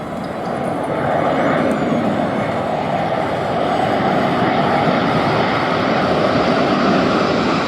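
A large military cargo airlifter flying at an airshow in Rome, Georgia, its engines giving a steady, loud, broad roar that holds for several seconds with no talk.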